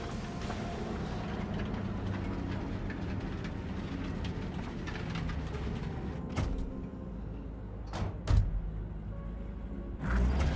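A train arrives in Cyberpunk 2077 with a continuous heavy rumble, rattling and clanking, and a few sharp metallic knocks near the end, with no talking.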